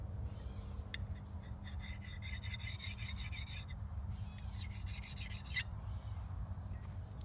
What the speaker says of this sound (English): you can get it sharp with this diamond rod